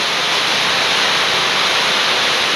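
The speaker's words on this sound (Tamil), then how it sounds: "நல்ல மழை சரியான மழை" Heavy rain pours down in a dense, loud, continuous hiss that fills the whole short stretch, close and steady with no voices.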